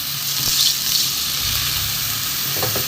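Water poured into a pan of raw, unfried moong dal on the stove, a broad loud sizzle and hiss that holds steady throughout, with a few faint clinks near the end.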